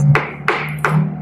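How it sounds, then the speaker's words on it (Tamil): An Honor Magic 7 Pro smartphone hits the ground in a drop test, producing three sharp, ringing impacts spaced about a third of a second apart over a steady low hum, with no talking. "இன்னொரு டிராப் டெஸ்ட் பண்ணி பார்க்கலாம்"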